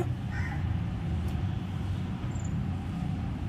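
Crows in a Kerala home setting caw a few times at moderate distance over a steady low background hum, with no talking.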